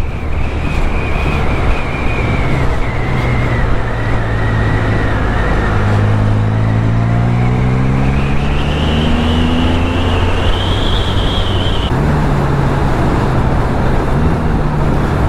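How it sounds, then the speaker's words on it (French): Can-Am three-wheeler engine under manual downshifts and engine braking, with strong wind rush over a steady roar and engine tones that step and slide in pitch as gears change. "Là je descends les rapports manuellement et ça marche aussi"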